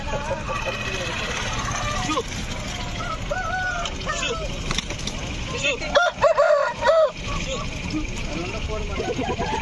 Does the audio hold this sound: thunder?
no